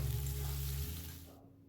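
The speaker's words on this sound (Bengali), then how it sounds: "পেঁয়াজের সাথেও কিছুক্ষণ আলুটা ভাজা হবে" Potatoes fry with onions in hot oil, a soft sizzle close by that fades away after about a second and a half.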